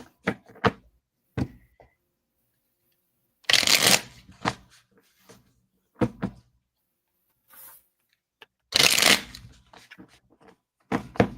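Playing cards are shuffled by hand in two loud riffling bursts, close to the listener, set among sharp taps and soft clicks of cards being squared and handled in a quiet room.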